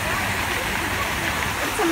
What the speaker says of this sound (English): You can see the man-made waterfall from up there.